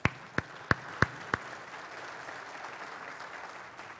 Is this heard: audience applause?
yes